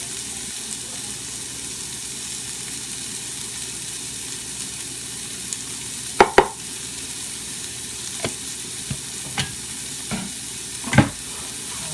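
Turmeric stirred into a pan of sizzling food, a soft continuous fry hiss at low level broken by a few sharp spoon clacks against the pan, no talking.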